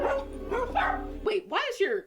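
A dog barks in a few short, close yips and woofs, mixed with dense talk or tonal voices that make the barks partly masked.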